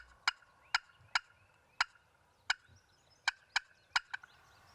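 A wild turkey gobbler courting a hen in Illinois gives about ten short, sharp calls at irregular intervals of roughly half a second, loud and fairly close, over quiet outdoor background.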